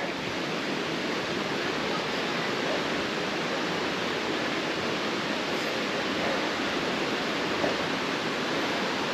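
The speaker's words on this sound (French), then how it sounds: "le chemin est devenu un petit ruisseau" Rainwater running down a mountain hiking trail toward the Étang de Comte in Ariège, the path turned into a small stream, giving a steady, broadband rushing wash that holds constant and close throughout with no talk.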